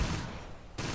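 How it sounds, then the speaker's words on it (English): Dense, continuous automatic gunfire and shooting from the Close Combat wargame set around Caen, loud and sustained with a brief lull before another burst. "I hope we're opening fire in the right places"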